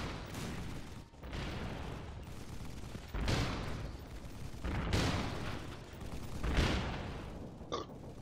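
Turrets firing in a video game: repeated booming bursts of gunfire swelling and fading in waves, loud and close, with a brief sharp ping near the end and no talk.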